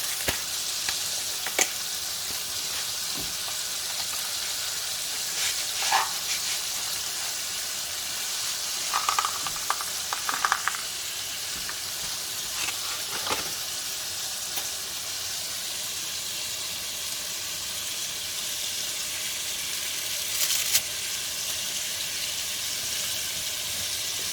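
Shrimp frying in a pan for spaghetti, a steady close sizzle and hiss running throughout with a few brief stirring clatters and no talking.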